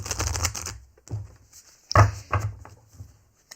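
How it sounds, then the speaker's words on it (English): Tarot cards being shuffled in several short bursts, a riffling, papery patter that comes and goes with brief pauses, close and fairly quiet. "Let's give these cards a really good shuffle"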